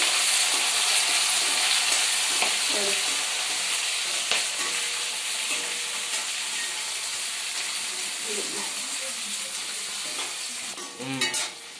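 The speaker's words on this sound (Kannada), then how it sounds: "ಇವಾಗ ಈರುಳ್ಳಿ ಒಂದು 2 ನಿಮಿಷ ಫ್ರೈ ಮಾಡಿದೆ" Onions fry in a pan with a loud hissing sizzle that eases gradually, broken by scraping stirs of a spoon and a clatter at the close.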